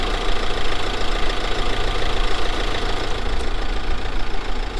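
Car engine left running at idle while stationary, a steady close mechanical hum and rumble with no voices over it.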